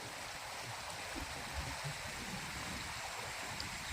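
River flowing past the bank, a continuous broadband rush and burble of moving water heard steadily and moderately close, with faint low gurgles and no clear voices.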